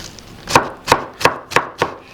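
Five crisp knife chops through spring onions on a board, close and evenly spaced, with no talking.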